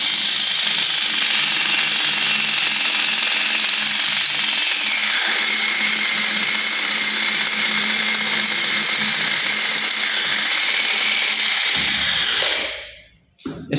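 A small electric motor driving a homemade gearbox hauls a weight of over 2 kilograms, giving a loud, steady, high-pitched whirring grind that runs continuously and then cuts off abruptly near the end.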